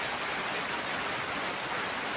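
Torrential rain falls on Morrelganj bazaar in a storm, a loud, unbroken wash of spattering drops that stays constant throughout.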